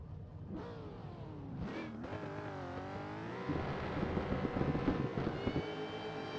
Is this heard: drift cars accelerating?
yes